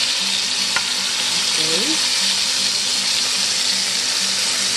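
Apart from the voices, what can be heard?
chicken frying in hot oil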